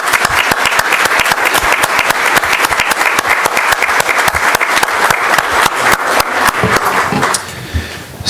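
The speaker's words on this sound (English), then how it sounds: "Can we give a round of applause to our League of Women Voters?" Loud, dense applause from the audience at a public forum on a city water reclamation facility, honoring the League of Women Voters; rapid clapping carries for about seven seconds, then tapers off.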